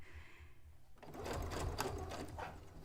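A sewing machine starts up and sews with a fast, steady mechanical whir and rattle, close and continuous after a quiet start.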